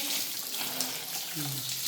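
Water splashes and rushes steadily across a household floor as it is being washed, a continuous close wash of sound with faint voice-like murmurs underneath.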